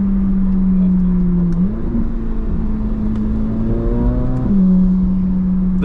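A powerful sports car engine, a 2025 BMW M4 Competition xDrive or 2024 Chevrolet Corvette, revs and accelerates up through the gears, its loud growl climbing in pitch with brief drops at each shift.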